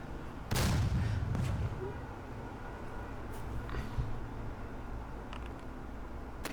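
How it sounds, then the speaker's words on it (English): A Panther tank cannon fires in the Heroes of Normandie strategy game, one loud booming blast that rumbles and fades, followed by faint scattered noises. "The Panther is going to fire with the cannon."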